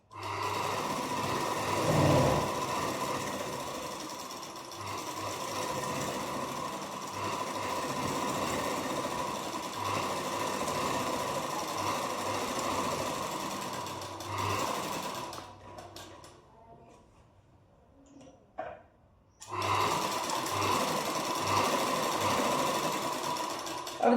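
Sewing machine stitching a deep neck blouse runs in a steady rapid whir, pauses briefly with faint handling noises, then resumes running close by.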